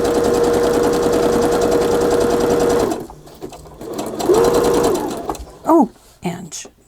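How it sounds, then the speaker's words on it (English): A sewing machine stitches fabric tucks on a journal page, running a steady, close, high whirring hum for about three seconds. After a pause comes a shorter run, then a few clicks and a brief voice. "I'm just happily sewing along"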